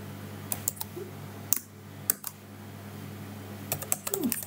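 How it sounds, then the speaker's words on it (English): Scattered keyboard taps and clicks arrive in short irregular bursts, with quiet pauses between them over a low steady hum. "So basically I'm just typing from the top."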